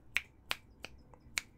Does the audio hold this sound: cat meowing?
no